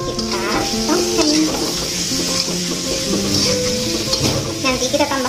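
Pieces of boiled goat meat go into a frying spice paste for tongseng, sizzling loudly and steadily while being stirred, with tonal music running underneath.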